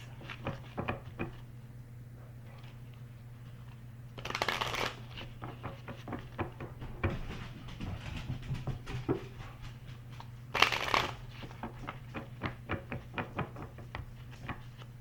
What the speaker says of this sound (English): We're going to pull couple of shaman healing cards for you